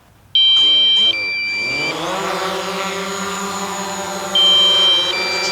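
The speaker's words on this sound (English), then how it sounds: "that's the low battery warning" Electronic low-battery warning beeps sound in short bursts at the start and again near the end, over a steady droning motor hum.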